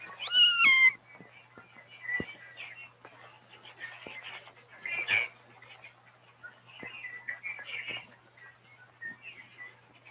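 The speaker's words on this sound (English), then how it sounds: "A lost kitten." A lost kitten meows loudly and high-pitched at the start, then keeps up softer, scattered mews and rustles in grass, with another louder cry midway.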